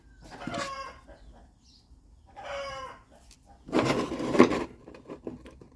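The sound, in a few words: rooster crowing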